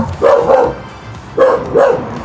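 Dogs bark nearby, four loud, sharp barks in two quick pairs separated by a short pause, with no talking over them.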